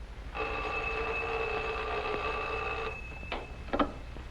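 An old telephone bell rings in a 1947 film, one long continuous ring lasting over two seconds, followed by brief clicks and handling noises as the receiver is picked up.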